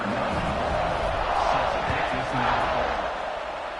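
A football stadium crowd roars in a sustained, loud wash of cheering just before kickoff, a broadband swell with a commentator's voice speaking over it.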